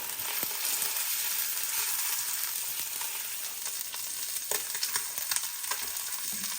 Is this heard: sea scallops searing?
yes